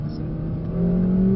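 A Mercedes-AMG CLA45 S or A45 S powers out of a corner on a racetrack, its engine hum steady and then rising in pitch and loudness over a second or so.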